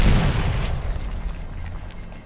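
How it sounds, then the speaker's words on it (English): A mortar shell detonates close by in Medal of Honor combat, a heavy booming burst that decays into a long low rumble. "Mortar inbound."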